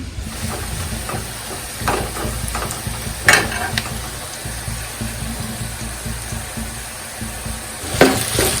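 A tadka for kadhi fries in a pan as a steady close sizzle and hiss. Stirring scrapes and a few louder clatters break through it, with no voices.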